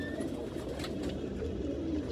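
Soft, low cooing of a Deobandi pigeon repeats gently close by over a quiet, steady background hum.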